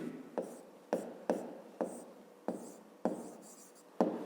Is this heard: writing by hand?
yes